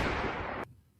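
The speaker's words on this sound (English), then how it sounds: "Hit him with a gunshot." A single loud gunshot sound effect, a broad burst of noise that holds for about half a second and then cuts off abruptly into quiet.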